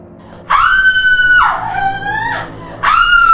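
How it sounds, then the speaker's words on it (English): A woman lets out three loud, shrill screams in close succession, the second longer and wavering, each sustained and piercing with short gaps between them. "The screams are coming from the billiard room!"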